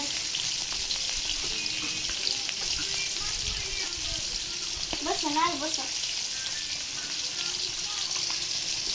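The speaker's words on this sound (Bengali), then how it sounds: "দেখেন ভালো করে ভেজে নিতেছি" Hilsa fish fries on a clay stove with a continuous close sizzle, and a faint voice sounds briefly in the background.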